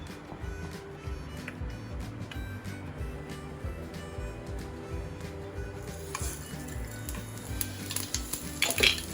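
Mustard seeds frying in hot sesame oil in a home kitchen pan, a steady crackling sizzle with faint popping, joined by clinking of a utensil and pot near the end.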